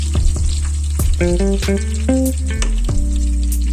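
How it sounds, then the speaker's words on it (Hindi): Breaded chicken nuggets deep frying in hot oil give a steady, close sizzle with a few sharper crackles, heard throughout under melodic background music. "फिर उसके बाद इन्हें फ्राई करें तो फिर ये बहुत अच्छे फ्राई होते हैं"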